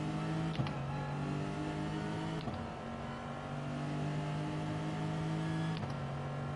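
A Lexus RC F race car in a racing video game: its engine drones at high revs, holding steady and then briefly dipping at a few gear shifts, loud and close throughout.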